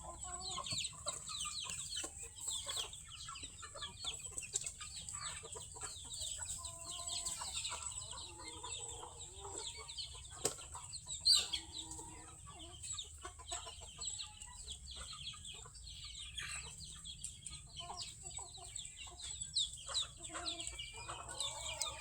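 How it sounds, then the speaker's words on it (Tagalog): Rhode Island chickens cluck softly and steadily, with a few louder squawks partway through, over a quiet background. "Malalaking manok"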